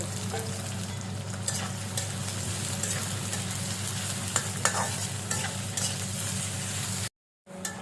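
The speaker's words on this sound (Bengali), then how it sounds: "পেঁয়াজ ভেজে নিব এবার, 2 কাপ পেঁয়াজ ভাজিয়ে নিচ্ছি।" Steady, dense sizzling of onions frying in oil, close and continuous with occasional stirring clicks, then a brief silent gap near the end.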